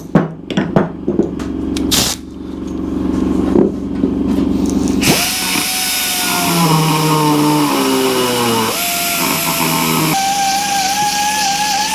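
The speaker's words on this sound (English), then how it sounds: "Get the compressor on." An air compressor runs with pneumatic tools in a workshop during a Royal Enfield bobber build: a few sharp tool bursts first, then a loud continuous whining drone that shifts pitch and slowly sags.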